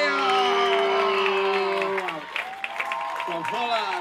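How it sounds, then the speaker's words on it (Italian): Audience at a teen dance competition applauding and cheering for a group from Holland, steady broadband clapping and crowd noise throughout, with an announcer's voice calling out over it. "Big, no, big applause from The Fire!"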